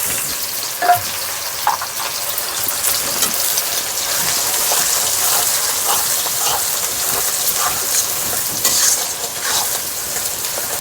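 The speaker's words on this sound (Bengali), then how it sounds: "তেলের উপরে দিয়ে দেবো পেঁয়াজ, এই তেলে আমি মাংসটা করে নেব।" Chopped onions frying in oil for bamboo biryani, a loud, dense rain-like sizzle that holds steady for several seconds, with scattered stirring scrapes and pops; close up, no voices.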